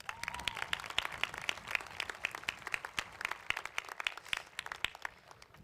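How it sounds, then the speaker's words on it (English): An audience at a high school graduation ceremony claps in moderate, scattered applause, with many individual hand claps rippling steadily and a brief voice at the start. "one more round of applause for Tyson Jacobs"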